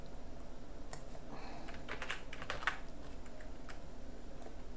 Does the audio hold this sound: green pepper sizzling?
no